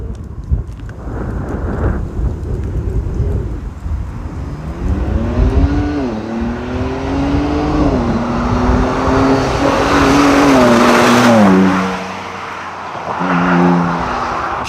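A 2023 Ford Ranger Raptor engine revved hard at full throttle, loud and close, with rising and falling pitch sweeps as the throttle is blipped repeatedly, then settling back to idle.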